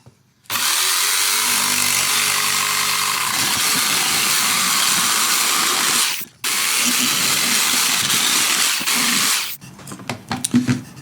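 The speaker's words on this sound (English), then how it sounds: "Plug the jigsaw in." A jigsaw saws through a plywood template in a workshop, a loud continuous buzzing cut that runs for several seconds, stops briefly, resumes, then winds down into sputtering bursts.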